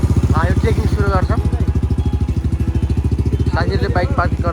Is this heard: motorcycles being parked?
yes